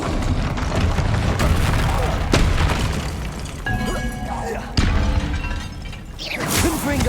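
Magic spell effects from the Hogwarts Legacy video game, Confringo and Expelliarmus: loud booming blasts, crashes and whooshing bursts in quick succession, with sharp impacts and shimmering tails.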